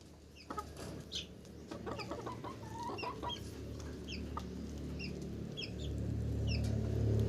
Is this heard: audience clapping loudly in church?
no